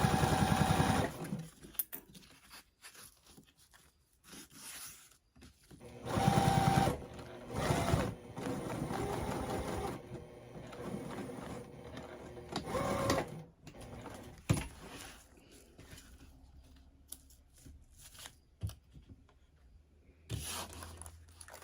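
A sewing machine runs in bursts of rapid mechanical stitching, stopping and starting between runs, close and steady with no talking.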